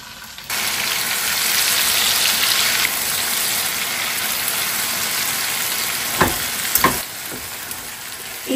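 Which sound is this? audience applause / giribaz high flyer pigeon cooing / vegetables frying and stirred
vegetables frying and stirred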